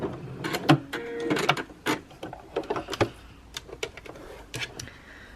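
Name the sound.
sewing machine stitching fabric all the way round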